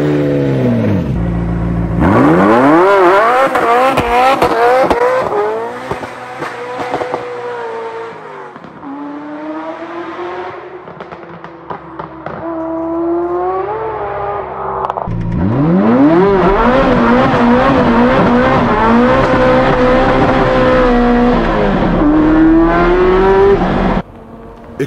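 A loud Ferrari F40 engine revs hard and screams through repeated rising and falling pitches while drifting, tires squealing as it slides, continuous and close.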